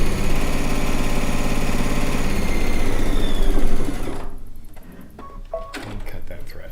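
A sewing machine runs in a fast, steady, close whir while stitching a rag quilt, then stops about two-thirds through, leaving a few light clicks and thread-handling sounds.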